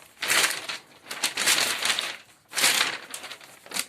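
Two sheets of paper shaken and crumpled to mimic the rattle of a radiograph plate, giving bursts of crisp crinkling in a few loud waves with short pauses between, no voices.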